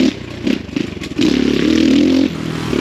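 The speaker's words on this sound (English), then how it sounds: "just ripping around trails like this, I mean, I'm riding all these, like most of this stuff's like just blipping the throttle quarter to half" An X Pro Storm 150 DLX ultra-light dual sport motorcycle ridden on trails, its small engine loud and close as the throttle is blipped in short bursts, with clattering and scraping over rough ground.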